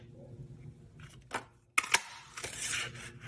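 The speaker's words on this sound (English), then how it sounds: "And we'll just go ahead and punch." A paper craft punch cuts through cardstock with a couple of sharp mechanical clicks and snaps, faint and close, amid quiet handling rustle.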